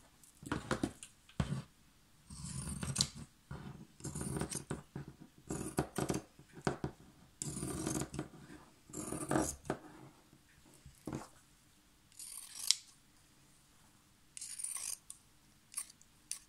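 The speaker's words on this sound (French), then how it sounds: "Et ici, on va couper le long." Scissors snipping through fabric for homemade reusable wipes, bursts of close crisp cutting in short runs separated by pauses, with some handling noise between cuts.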